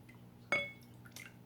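A homemade calendula lotion-bar mixture is poured into a bowl, giving a single short liquid plop and splash followed by a faint second drip, close and quiet with no talk.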